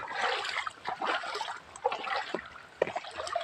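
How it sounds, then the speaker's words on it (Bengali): Floodwater moves through flooded streets in a series of irregular splashes and trickling gurgles, close by and moderately loud, with brief pauses between surges and no voices. "এত পানি রাস্তাঘাটে, ফুল বন্যা।"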